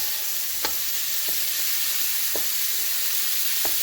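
Food sweating down in a hot pot for pelau, giving a steady, close sizzle and hiss with a few faint clicks of stirring scattered through it.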